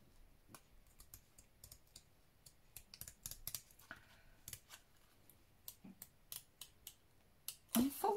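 Scissors trim paper around a toucan postcard in a series of soft, close snips and crisp cuts, irregular in rhythm, with a louder rustle of paper handling at the very end.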